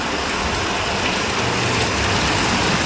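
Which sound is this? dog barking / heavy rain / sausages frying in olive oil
heavy rain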